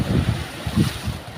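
Big sea waves and strong wind on open water, heard from a small fishing boat as rolling surges and gusty rushing noise that buffets the microphone.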